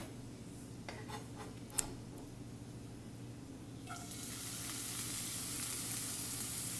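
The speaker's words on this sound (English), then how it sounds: "Now we're going to put the vegetables in the" Vegetables for an omelette hit a pan over very low heat and start a soft, steady sizzle that builds and holds, after a few faint clicks and taps.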